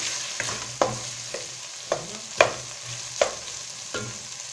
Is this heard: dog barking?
no